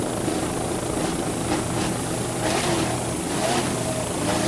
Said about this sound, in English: Nice throttling there by Kurt Steinbach